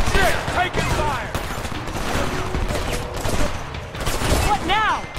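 Gunfire in the Homefront video game rattles in busy bursts, with voices speaking over the shooting throughout.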